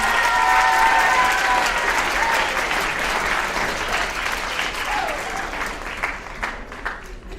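Steady round of audience applause at a school writers' event, dense clapping from a crowd holding fairly even and then tapering off, with a brief murmur of voices underneath.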